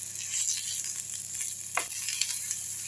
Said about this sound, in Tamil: தீயை குறைச்சி வச்சு வதக்குங்க